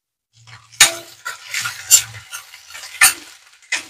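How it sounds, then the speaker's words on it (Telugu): A pan of onions and fenugreek leaves for a bottle gourd curry is stirred, giving bursts of scraping and frying crackle with a few metallic clinks. "ఆనియన్స్ చక్కగా వేగే వరకు మెంతి పచ్చివాసన పోయేంత వరకు ఇలా ఫ్రై చేసుకోవాలి"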